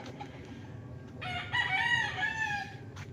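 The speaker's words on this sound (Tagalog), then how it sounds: "Daming alagang manok mga kapraps." A rooster crows loudly and nearby on a farm in Nagcarlan, one long drawn-out call rising over a backdrop of clucking chickens and general fowl chatter.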